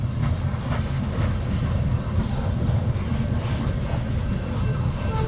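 A westbound train approaches on the rail line near a co-op in Missouri Valley, a loud, continuous rumble of rolling wheels and rail noise close by.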